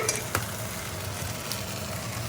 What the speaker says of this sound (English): now I'm just going to crack in the egg